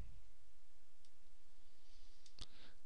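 A single sharp mouse click confirming an OK button in Photoshop, quiet and close, with a faint tick earlier and near-silence around it.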